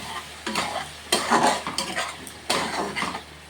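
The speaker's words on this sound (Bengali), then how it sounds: "এটা অনেকক্ষণ নাড়াচাড়া করবো।" Mushroom curry with tomato paste being stirred in a pan, a spoon scraping and knocking against the metal in several separate bursts over a soft background sizzle, close and moderately loud, with no talking.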